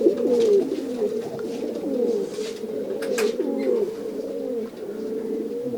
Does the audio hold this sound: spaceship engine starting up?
no